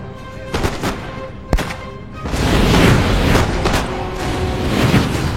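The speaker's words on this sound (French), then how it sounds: "Le canon de tiré, monsieur." An artillery battery's cannon fires with one sharp, loud bang, followed by a broad, rolling rumble that swells and lingers over steady background noise.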